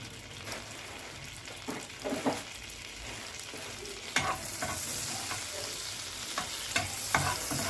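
Eggs frying in butter with Kashmiri red chilli and turmeric, a steady sizzle broken by repeated scraping stirs in the pan, close and fairly loud with no talking.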